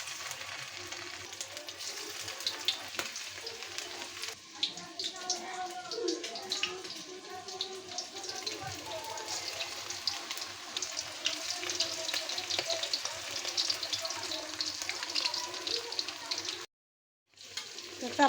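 Chicken chops, a meat-filled croquette, sizzle steadily in hot oil with a dense, crackling hiss that runs throughout, while a person talks nearby.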